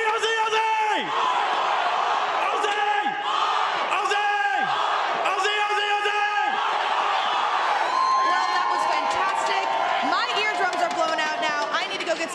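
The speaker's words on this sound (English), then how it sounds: "the Australian crowd is one of the best" Loud Australian crowd at the 2018 Overwatch World Cup Finals at BlizzCon, cheering and chanting in a steady roar for the whole stretch, with rhythmic chant bursts repeating about every second or two and whoops on top.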